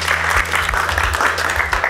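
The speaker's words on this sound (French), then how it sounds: "On peut l'applaudir, bien sûr" Audience applauding at a live show where children read letters to their fathers, dense steady clapping from a room full of people, sustained and fairly loud throughout.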